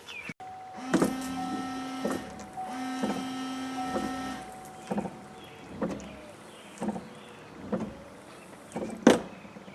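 A 2005 Chevrolet Suburban rear wiper motor runs in repeated short whirring strokes, buzzing motor runs early on, then a series of evenly spaced sweeps with soft thumps, close and fairly quiet.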